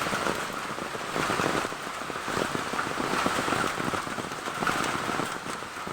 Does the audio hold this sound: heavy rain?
yes